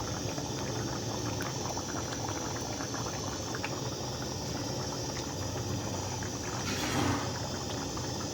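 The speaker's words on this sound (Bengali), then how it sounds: "জল দিয়ে ফুটিয়ে নিচ্ছি, ফুটিয়ে শেষ হয়ে গেলে নামিয়ে নেব" Mutton curry simmering with water in a pot, a steady soft bubbling boil with a brief louder gurgle near the end, no voices.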